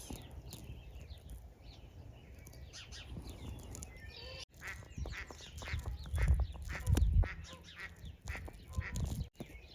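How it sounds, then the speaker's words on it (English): Ducks on a pond quack repeatedly outdoors, some calls close and loud, others farther off, mixed with scattered bird chirps and light background noise. "Sitting here watching these ducks in the pond"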